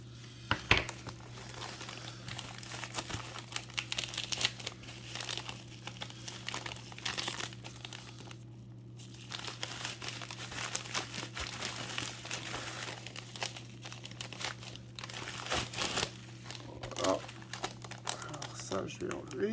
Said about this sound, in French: coupe déjà le petit papier bulle.